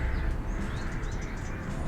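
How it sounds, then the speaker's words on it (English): Birds chirp in the Snoot Game visual novel, with light, quick twittering calls repeating high over a full, steady background bed throughout. "my mind wakes to a chirping of birds and a scent of warm, clear air"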